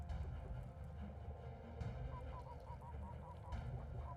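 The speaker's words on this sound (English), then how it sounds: "That did sound like a goose, didn't it?" A goose honks faintly in a short repeated series of nasal calls midway through, set against a low steady background hum.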